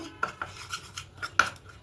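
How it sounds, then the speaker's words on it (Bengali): Spoon knocking and scraping against a bowl while ground coriander, turmeric and Kashmiri chili powder are mixed, a few close, light clinks and scrapes with no talking. "এবার খুব ভালো করে এটাকে একটা মিক্স করে নেব"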